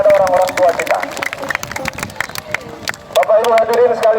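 An audience at a send-off ceremony for a hadra parade in Boliyohuto, Gorontalo, claps in bursts of sharp, uneven applause that fade in the middle and swell again, mixed with a voice and crowd chatter.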